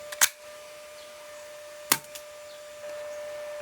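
Metal-body airsoft 1911 pistol with a plastic magazine firing BBs: two sharp, snappy shots about two seconds apart, each a crisp, close crack with no voices.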